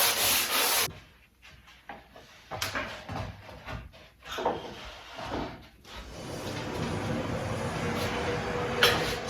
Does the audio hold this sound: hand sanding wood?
yes